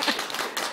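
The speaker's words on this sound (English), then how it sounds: "Please clap for yourselves." Audience at a queer film festival clapping for themselves, a short dense burst of many hands at moderate level with no talk.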